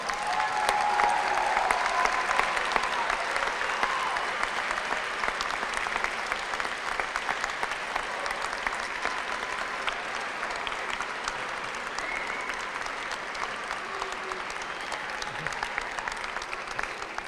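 Sustained applause from an auditorium audience at a spring commencement fills the space, dense and steady throughout without pause.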